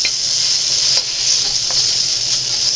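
Vegetables frying in a pot on medium-high heat for homemade ramen, a steady loud sizzle with light stirring scrapes now and then, close up and with no talk.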